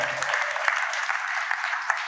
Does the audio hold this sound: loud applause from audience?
yes